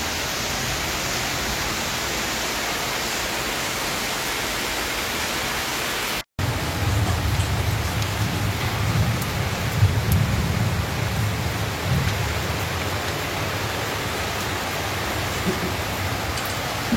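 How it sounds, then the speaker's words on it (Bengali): Long-awaited rain falling steadily as a dense, even hiss close by, briefly cut out for a moment partway through, with some low rumbling underneath in the later section. "বহুদিনের প্রতীক্ষিত বৃষ্টি আজকে একটু একটু এসেছে"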